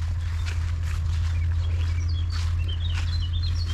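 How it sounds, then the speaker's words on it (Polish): Small birds sing and chirp in a rural vegetable and fruit garden, scattered high calls over a steady low hum of background noise, no talking. "Ptaszki śpiewają."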